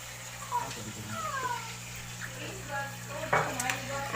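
Water pours and splashes into a cooking pot in a home kitchen while people talk, with a faint cat meow in the background.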